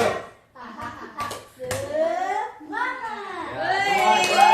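A group of schoolchildren at an elementary school claps a short rhythmic pattern, the tepuk semangat cheer: a few sharp hand claps interleaved with children chanting together, close and lively.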